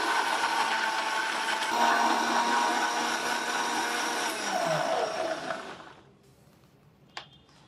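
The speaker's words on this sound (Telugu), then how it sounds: "క్యారెట్ ముక్కలు తీసుకొని దీంట్లో మనం వాటర్ యాడ్ చేసుకొని జ్యూస్ చేసుకుందాము" A blender making juice from carrot pieces and water whirs loudly and steadily, then spins down and stops, followed by quiet and a single small clack.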